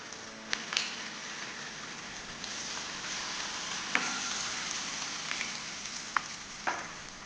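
Soaked cashews sauté in a pan for a masala sweet corn sabzi, giving a quiet steady sizzle with occasional sharp clicks and scrapes of stirring.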